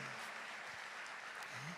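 An audience at a Catholic music-and-prayer gathering claps, a dense steady wash of applause from many hands that stays even in level and is heard from a distance throughout.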